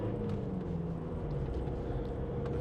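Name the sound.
Ford Transit Custom 2.0 EcoBlue diesel engine pulling up a hill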